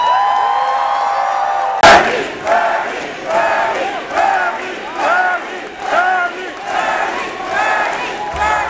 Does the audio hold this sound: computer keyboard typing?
no